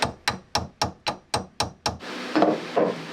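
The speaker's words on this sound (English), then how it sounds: "I guess I'll just see if I can't tap that off with a hammer gently." A hammer taps a boat propeller shaft coupling during a sailboat refit, giving eight sharp, evenly spaced metallic knocks, close and fairly loud, followed by a brief burst of scraping handling noise.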